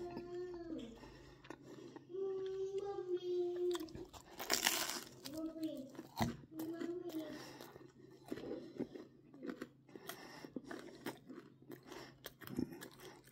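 Close, crunchy chewing of Buddy's Detroit-style pizza crust, crisp bites and crackles, interspersed with a few short vocal sounds and mouth noises.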